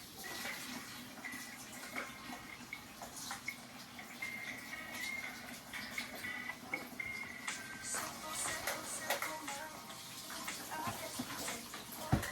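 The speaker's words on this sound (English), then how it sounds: "So now you have the bottom part. You're going to rinse this out." Tap water running steadily as the bottom part of a juicer is rinsed in a sink, a faint continuous splashing wash with light clinks and knocks of plastic parts scattered throughout, heard close without speech.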